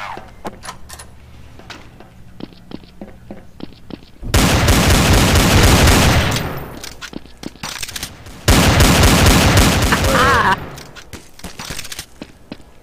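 Loud bursts of automatic gunfire in Counter-Strike: Source, two sustained volleys of rapid shots separated by quieter clicks and single shots, with people talking over the game.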